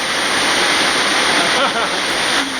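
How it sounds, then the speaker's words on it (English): Waterfall in Kanchanaburi, Thailand: a steady, loud broadband rush of falling water, close by and continuous, with splashing and faint voices mixed in. "I said Katie made it under the waterfall too."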